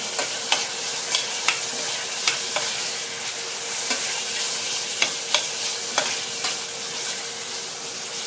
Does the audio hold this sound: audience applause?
no